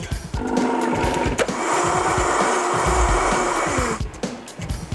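A blender whirs steadily at high speed for several seconds, starting and stopping abruptly, loud and close with no voices.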